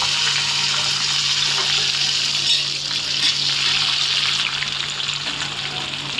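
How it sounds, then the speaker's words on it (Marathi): Chopped onion frying in oil with mustard seeds, cumin and curry leaves for a methi pithla dish: a steady, fairly loud hissing sizzle that runs through the whole stretch with no talk. "कांदा टाकायचा आहे आपल्याला भाजण्यासाठी"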